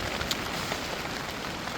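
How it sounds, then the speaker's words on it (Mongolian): Steady rain falling outdoors at Buir Lake in Dornod province, Mongolia, a dense continuous hiss of drops close by, without pause. "Бороо орсон."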